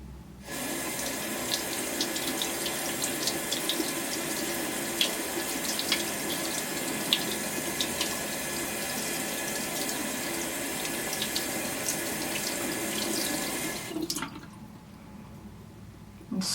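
A makeup brush is rinsed under a running tap using a Sigma Spa Express Glove: a steady, loud rush of faucet water runs for about fourteen seconds, then shuts off abruptly.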